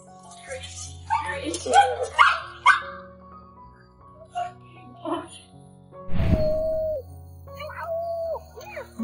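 A dog yips and whimpers excitedly between bursts of people talking, with a sharp louder bark partway through.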